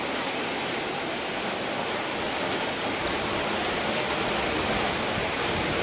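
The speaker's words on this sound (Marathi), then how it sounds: "तर तुम्ही आमच्या इकडचा पाऊस बघा" Heavy monsoon rain pours down in Kudal as a dense, unbroken roar of falling water, loud and close, with no voices.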